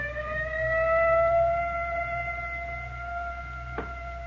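A steady, tonal ambulance siren wails continuously at a distance over a low engine rumble, with a brief knock near the end.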